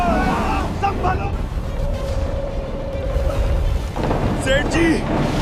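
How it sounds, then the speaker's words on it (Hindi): A dramatized thunderstorm at sea aboard a sailing ship brings a loud, continuous roar of wind and rain with rumbling thunder, while voices shout over the din. "आगे भयानक तूफान है, अब कोई नहीं बचेगा।"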